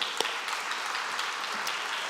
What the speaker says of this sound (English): Let's give our 2 award winners another round of applause.